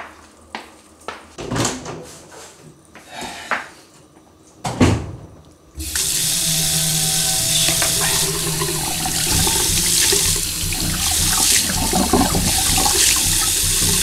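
Water gushes from a bathroom sink tap for face washing, loud and steady for the second half after earlier knocks and rustling movements.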